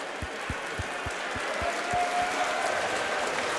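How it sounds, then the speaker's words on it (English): Fight fans in an MMA arena applaud the two fighters standing in the cage, a steady wash of crowd clapping at moderate distance, with a few low thumps and a faint tone mixed in. "let's have a round of applause for both of the fighters in the center of the cage"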